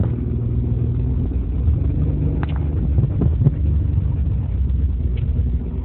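Car being driven, a steady low engine and road rumble heard from inside the cabin, continuous and fairly loud with no talk.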